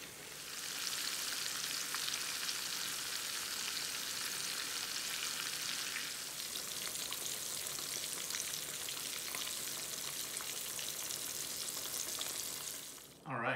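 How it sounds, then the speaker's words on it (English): A pork roast searing in a hot pan gives a loud, steady, close sizzle like heavy rain that eases slightly partway through, with faint intermittent crackles and a short knock at the end. "we seared the pork roast on all 6 sides"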